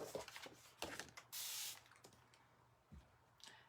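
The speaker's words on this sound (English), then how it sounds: "We're just going to spray some water on here." A single short hiss as water is sprayed from a spray bottle, lasting under half a second, set among faint handling rustles and knocks in a quiet room.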